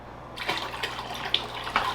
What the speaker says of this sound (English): We're gonna go ahead and put the rest of the water in.